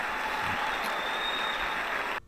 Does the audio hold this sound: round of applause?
yes